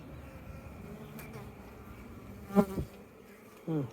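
Honey bees buzz around an opened hive outdoors without smoke, a steady hum with individual insects droning close past at moments.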